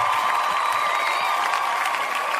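A crowd claps and cheers in a steady, dense burst of applause, loud and close, with a few whoops rising out of the noise.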